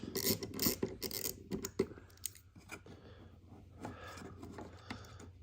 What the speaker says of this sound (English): you just get these screws out.